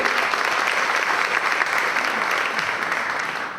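Loud, sustained applause fills a room at a local forum with mayoral candidates, a thick, even wash of many hands clapping together that holds steady for several seconds before easing slightly.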